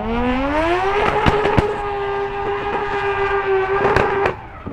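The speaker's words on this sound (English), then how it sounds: "As JOON MAENG, Nitto tires, Bergenholtz Racing Mazda RX-8" Bergenholtz Racing Mazda RX-8 rotary drift car on Nitto tires during a Formula Drift qualifying run at Palm Beach, its engine holding a loud sustained high-revving wail with brief sharp pops and bangs, easing off near the end.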